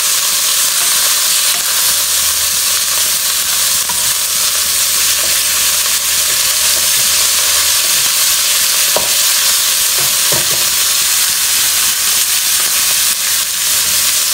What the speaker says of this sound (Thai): ก็ผัดเนื้อหมูไปจนเนื้อหมูสุกนะครับ